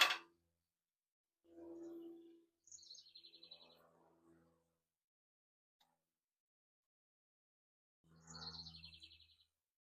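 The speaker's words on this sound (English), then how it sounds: "Hopefully you're hearing a lot of the birds" Birds call outdoors in a quiet garden: a few faint chirps and short warbling phrases come from some distance, separated by long stretches of near silence.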